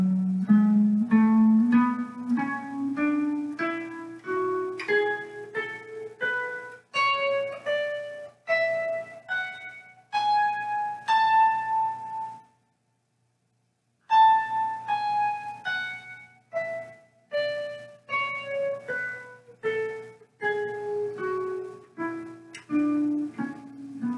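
Guitar playing the universal scale in position 6, single notes picked one at a time climbing steadily up and then descending back down, clear and close, with a short pause at the top and no talking.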